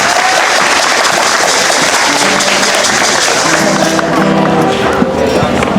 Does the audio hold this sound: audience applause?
yes